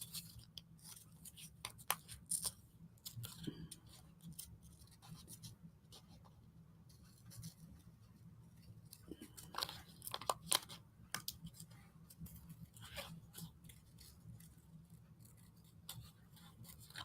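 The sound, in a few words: cutting out a paper sticker for art card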